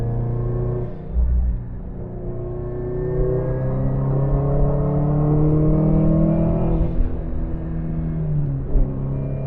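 A 390 whp Subaru WRX STI with a 20G turbo accelerating hard from inside the car, a loud, rising engine drone climbing through the revs, with a brief shift dip and another pull.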